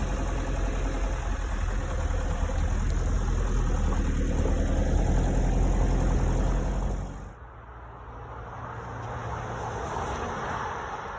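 A car travels a rough dirt road on Old Northern Road near Maroota, Australia, its engine rumbling low and steady with rattling vibration throughout, easing briefly near the end before continuing more quietly.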